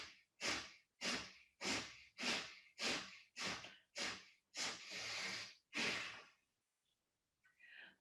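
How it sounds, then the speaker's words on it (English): Eight forceful nasal breaths pushed out in a steady rhythm during an energizing breathwork exercise, each a sharp close hiss, with the last one drawn longer, then a brief quiet pause. "Okay, exhaling through the nose."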